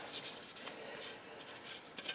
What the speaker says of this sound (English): just wiping down all the layers of gunk that were on it, road dirt